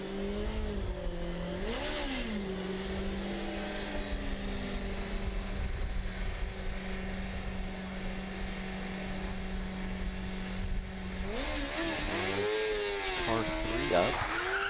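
Missouri S&T's Formula SAE car runs an autocross course at the 2024 competition, its engine holding a steady drone at a distance, then rising and falling in pitch through quick revs near the end, under a commentator's voice.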